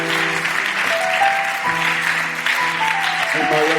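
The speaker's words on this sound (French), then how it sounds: "Continuez d'acclamer." Steady applause from a church congregation during a worship night celebration, continuous and loud throughout, with sustained music tones underneath.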